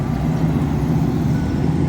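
Morning traffic in a mountain tourist town, a close steady engine drone from a passing truck or car with low rumble, brief and continuous, no voices.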